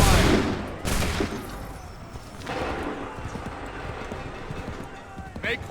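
Musket volleys crack in bursts during a battle in Assassin's Creed 3, a loud opening blast followed by further shots and a later volley, with shouted voices and galloping horse hooves mixed in.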